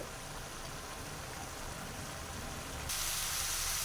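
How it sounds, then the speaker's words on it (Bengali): Vegetables fry in a hot pan in a home kitchen, giving a steady, close sizzling hiss that grows louder and brighter near the end, with no talking. "এ দেখো সবজিগুলো ভাজা হচ্ছে"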